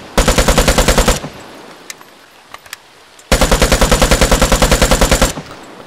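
Automatic gunfire from a gun in the video game Vigor: two long, loud bursts of rapid, evenly spaced shots separated by a quiet gap with a few faint clicks and thumps.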